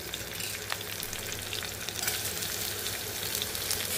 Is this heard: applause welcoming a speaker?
no